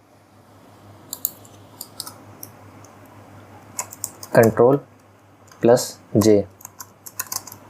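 Keys clack on a computer keyboard during web development work, scattered light taps and short typing bursts, with someone speaking briefly in between.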